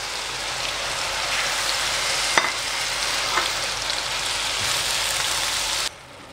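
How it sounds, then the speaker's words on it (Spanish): Chopped tomato sizzles and fries in a pan with mushrooms and onion for a seafood fideuá, a steady bright hiss with a couple of faint clicks of a utensil, cutting off abruptly near the end. "Hemos tenido las setas con la cebolla mezclándose durante un minuto y le añadimos el tomate troceado."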